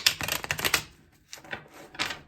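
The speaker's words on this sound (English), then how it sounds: "So while I'm shuffling the deck" A deck of tarot cards is shuffled by hand in quick, crisp riffling bursts. A dense run of papery clicks comes first, then a short pause, then two shorter flurries, close and alone.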